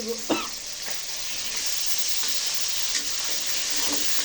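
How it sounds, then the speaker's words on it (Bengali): Tilapia fish fry in oil in a pan with a steady bright sizzle and a few stirring clicks near the start, close and alone. "এখানে এখন মাছগুলো ভাজা হয়ে গেছে"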